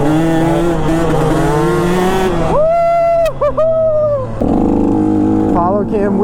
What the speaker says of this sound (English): Carter riding his Yamaha YZ250X. Gonna see how long you can hold this wheelie